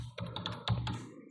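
Quick bursts of key taps on a computer keyboard, close and crisp, as a folder name is typed out in a short rapid run.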